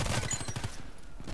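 A rapid volley of Glock pistol shots in the shooter game Contract Wars, several quick cracks in the first half fading into a quieter tail with one later pop, no talk.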